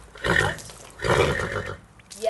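A horse whinnies in two loud, drawn-out calls that come close together, each lasting under a second.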